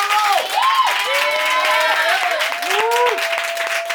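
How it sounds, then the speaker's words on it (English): Applause and cheering from a party crowd on an entertainment show, a dense wash of clapping under loud whooping voices and a speaker talking over it. "Y'all start clapping for my friend"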